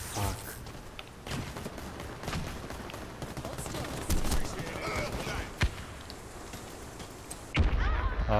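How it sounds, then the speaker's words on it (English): Gunfire and a grenade blast ring out during a ranked Blitz round of the Warface shooter on the Residence map. Sharp, loud bursts land at scattered moments over a steady, busy wash of combat noise. "Grenade out!"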